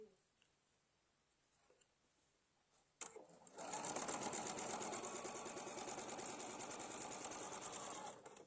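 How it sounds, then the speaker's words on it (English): A sewing machine runs a steady quarter-inch seam on an Epic Quilt 97 while piecing a quilt block, starting after a quiet stretch with a click and then a continuous fast, loud mechanical whirring that holds to the end. "Today I'm sewing on the Epic Quilt 97"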